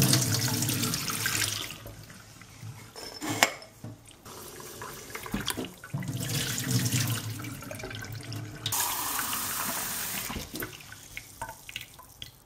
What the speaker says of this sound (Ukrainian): Можна зливати воду різними способами.